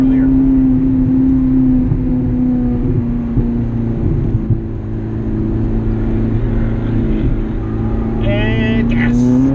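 Ferrari California engine under full-throttle acceleration, heard from inside the car: a loud, steady droning engine note that climbs in pitch near the end, with a voice talking over it.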